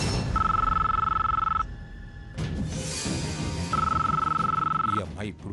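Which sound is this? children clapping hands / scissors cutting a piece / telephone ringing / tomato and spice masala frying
telephone ringing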